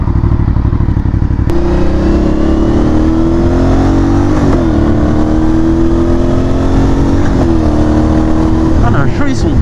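Aprilia Shiver 900 motorcycle engine revving under way, a loud steady drone that swells and eases through gear changes, close and continuous for the whole stretch.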